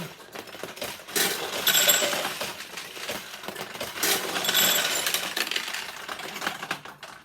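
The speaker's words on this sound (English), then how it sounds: "when you drop balls up in here, it will open these and make them a larger target" Steel balls rattle and cascade through a 1975 Nishijin Model B vintage pachinko machine, a continuous close metallic clatter with brighter surges of pinging, no voices.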